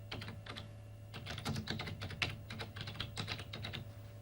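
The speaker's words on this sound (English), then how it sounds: "Now we can type some text." Brisk, steady typing on a computer keyboard during a 1997 home computer setup, with closely spaced key clicks running throughout over a constant low electrical hum.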